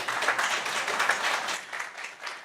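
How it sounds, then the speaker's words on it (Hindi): Brief audience applause at a youth stage event for content creators, a steady close wash of clapping at moderate volume that eases off slightly toward the end. "जोरदार तालियां बजाइए, क्यों कंजूसी हो रही है भाई?"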